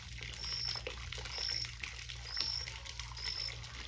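Falling water pours steadily into a fish pond at a country property, a continuous splashing trickle close by, with faint bird chirps repeating in the background and no talking.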